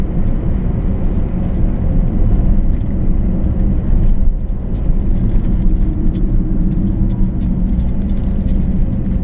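A car descends a steep mountain pass road using engine braking, the engine holding a loud, steady droning whir throughout, close and continuous with no talk.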